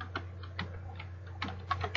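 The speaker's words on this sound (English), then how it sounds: "you just click on your screen and type what it is that you're wanting to type" Light keystrokes on a computer keyboard, a handful of irregular soft clicks over a low steady hum, close and quiet.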